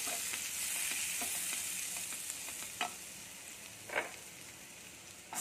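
Garlic pieces fry in a pan with a steady, close sizzle, broken now and then by a few light clicks of stirring, and no one speaks.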